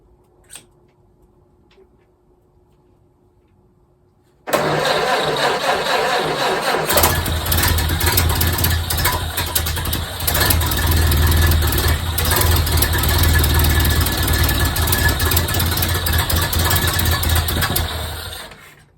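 A 1929 Ford Model A Tudor engine, freshly fitted with a new cylinder head gasket and running without its radiator, cranks and fires abruptly after a quiet lead-in, then settles into a loud, steady, rumbling idle that holds close up until near the end.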